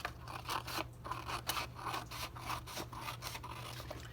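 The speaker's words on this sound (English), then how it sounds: "take your scissors or X-Acto blade, whichever you choose, and cut along that line" Scissors or a craft blade cuts along a marked line on paper, a steady run of close, rasping snips and scrapes with no talk.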